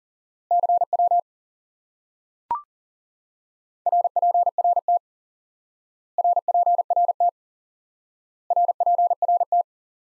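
A Morse code CW tone sends the prosign RPRT, heard as four short bursts of rapid beeping at an even steady pitch with gaps between them. A brief click falls between the first and second bursts.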